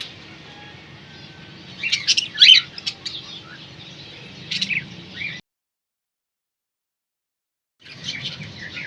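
Breeder pairs of cockatiels chirp in a busy aviary, with bursts of bright tweets and calls over a faint background hum, broken by a few seconds of silence before the chirping resumes.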